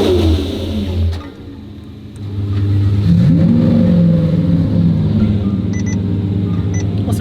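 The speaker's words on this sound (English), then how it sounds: "I'm in the twin turbo Huracan" Twin-turbo Lamborghini Huracan engine revving loud and close as the car accelerates in sixth gear, a sustained deep roar that dips briefly then swells and holds with a rising pitch sweep.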